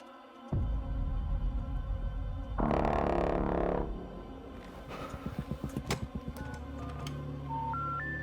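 Telephone being dialed in a Resident Evil horror trailer scene, a burst of rapid keypad tones and pulses following a dense swell of noise, rising beeps at the end, no talk over it.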